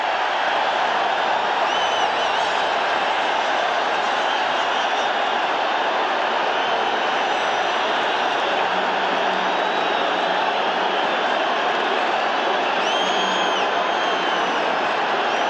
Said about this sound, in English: and now listen to this crowd